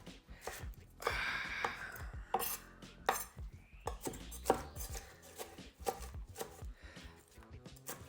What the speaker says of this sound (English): I'm just gonna go ahead and chop everything.